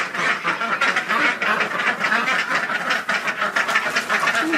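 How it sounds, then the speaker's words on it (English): Ducks in an indoor pen with fresh bedding, quacking in a dense, continuous chorus, close and fairly loud with a slight hissy texture. "Silly ducks."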